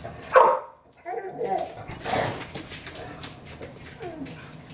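Several dogs bark in a house after a fire truck's siren passes, sharp yelps near the start then a noisy muddle of barking mixed with someone talking.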